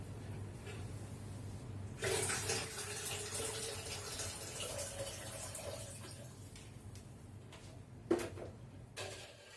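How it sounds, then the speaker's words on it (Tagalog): Water pours into a container of salt to make brine for salted eggs, a soft steady splashing stream lasting several seconds, followed by a couple of faint clinks. "So, ilalagay ko na lahat ng tubig."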